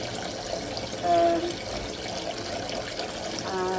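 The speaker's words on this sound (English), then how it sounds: "might be hearing the water splashing" Tepid water runs and splashes steadily from a tap while dyed yarn is rinsed in a sink, a close continuous trickle and slosh with a brief louder gush.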